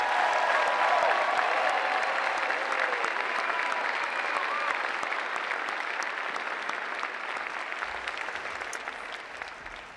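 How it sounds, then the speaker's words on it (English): A university commencement audience gives a sustained round of applause for the new graduates, dense steady clapping from a large crowd in a hall that slowly tapers toward the end. "Let's have one more round of applause for our 2024 graduates."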